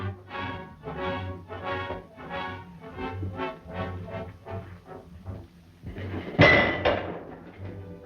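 Metal hammering rings out in a mine in a regular rhythm: about a dozen resonant blows at an even pace, then a louder clattering crash near the end. No one speaks.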